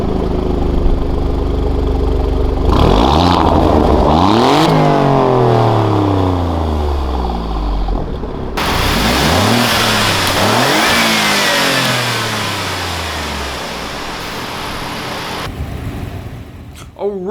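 A 2017 Alfa Romeo Giulia Quadrifoglio's 2.9-liter bi-turbo V6 is revved loudly several times, rising sharply and falling back toward idle between blips, with a short pause before it roars up again.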